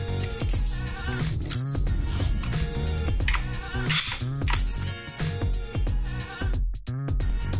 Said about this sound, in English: I'm going to start using my tool. In this case, I'm using an 8mm hex socket.